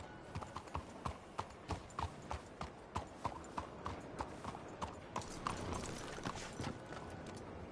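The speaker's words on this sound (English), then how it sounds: "That's a hell of a horse you got there." Steady horse hooves clopping at a walking pace in a video game, rhythmic hollow knocks over a constant background hum, with no one speaking.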